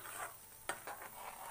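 Barnyard millet (bhagar) cooking in a pot with water is stirred, giving a few faint scraping strokes and one sharper knock over a low, steady simmer.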